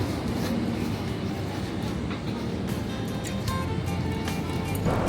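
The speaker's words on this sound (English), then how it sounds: "So now the train started." A passenger train begins to roll, a steady dense rumble of wheels and carriage noise heard from inside a business-class car, with faint clicks and rattles throughout.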